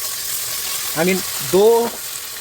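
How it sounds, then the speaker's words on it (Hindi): Ginger garlic paste fries with onions in a pan, a steady sizzle hissing throughout, with two brief tonal, voice-like sounds rising over it near the middle. "उसके साथ ही साथ जिंजर गार्लिक का पेस्ट हमने डाला है, इसको भी थोड़ा सा फ्राई करेंगे"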